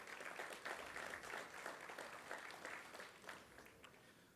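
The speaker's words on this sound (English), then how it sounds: "Please give them a big round of applause." Applause from an audience at an event celebrating San Antonio's first nonstop American Airlines flight, steady clapping heard faintly and at a distance, easing slightly toward the end.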